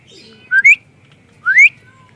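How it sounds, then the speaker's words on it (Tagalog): A loose pigeon gives two short, rising whistled calls about a second apart, close and clear against a quiet background. "Ay no, gandang ibon."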